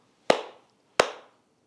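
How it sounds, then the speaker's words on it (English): Two crisp, separate hand claps, close and loud, spaced under a second apart with short room decay after each and silence between. "but I want you to clap"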